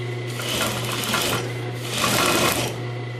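A sewing machine stitches a pillow with piping in a steady, close, continuous whir, its motor hum swelling slightly in two bursts with no talk.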